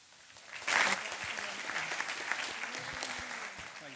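Audience applause at a nature festival school awards event, a burst of clapping that swells loudly then continues steadily, with a voice talking faintly over it.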